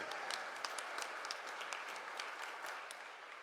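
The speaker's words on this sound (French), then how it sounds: "On l'applaudit, c'est le propriétaire de la belle province" A congregation at Sunday mass applauds the owner of a local restaurant, a steady crowd of clapping hands heard continuously, fairly soft and even, with sharper individual claps standing out.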